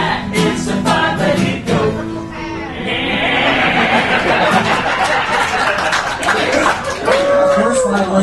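A bleating, moo-like animal call, presented as a five-legged goat at a live show in EPCOT's Norway Pavilion, rises loudly over a chattering crowd and repeats through the stretch, with voices audible beneath it.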